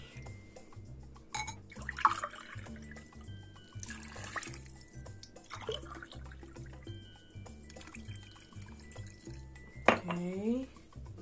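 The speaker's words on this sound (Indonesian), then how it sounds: "Terus kita kasih air." Water pours and trickles into a pot of rice mixed with peas and carrots, a light splashing with a few clinks, while a person talks nearby.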